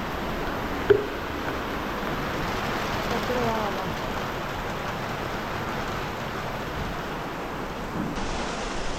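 Sudden heavy rain in summer pours down in a steady, loud roar, with a brief knock near the start and no talking.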